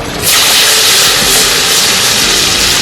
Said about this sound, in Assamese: তেল গৰম হৈছে এয়া মাংসৰ আলু ভাজিব লৈছো